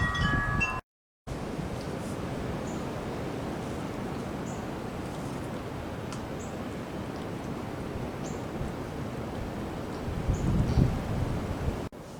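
Steady wind buffets the microphone in a constant low rumble from a hunting blind during Pennsylvania rifle deer season, with a brief dropout near the start and faint bird chirps far off.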